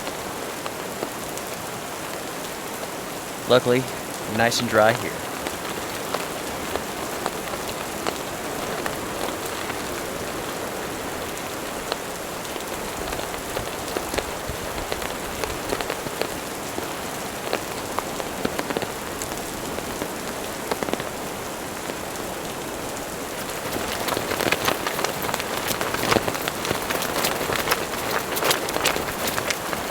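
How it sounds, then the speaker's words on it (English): Heavy rain pours steadily onto a tarp shelter at night in stormy, windy weather, a dense continuous patter that swells louder toward the end, with a short burst of rustling near the start and one brief spoken remark. "As you all can hear, it's raining pretty good out there."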